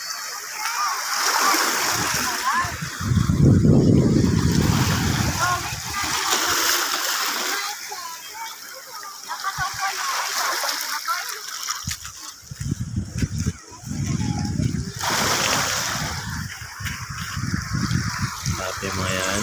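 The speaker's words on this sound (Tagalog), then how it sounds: "Lakas ang alon, grabe." Strong ocean waves crash and wash at Dibut Beach in San Luis, Aurora, repeated surging splashes and rushing surf close by, with people talking over the roar.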